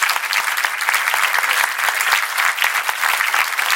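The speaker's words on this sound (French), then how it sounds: "On applaudit toute la municipalité de Balma." An audience at a comedy show in Balma claps continuously and fairly loudly, a thick, even burst of many hands with a faint murmur of crowd noise.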